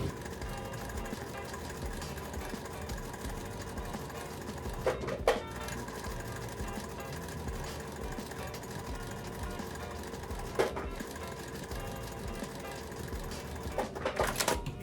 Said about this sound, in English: we're gonna sew a 1/4 inch seam on both sides of both of those lines that we just made